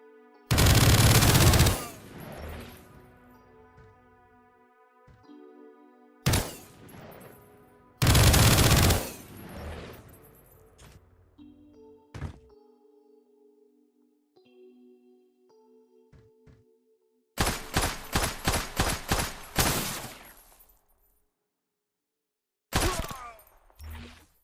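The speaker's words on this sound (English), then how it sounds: "look at that assault rifle" Assault rifle gunfire in the video game Project Onyx, heard in separate loud bursts with quiet gaps between them, including one rapid rattling string of evenly spaced shots. No one speaks.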